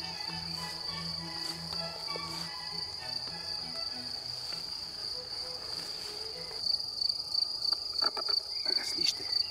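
Field cricket chirping steadily in grass, a continuous high trill of rapid pulses heard alone at moderate distance, with faint rustling near the end.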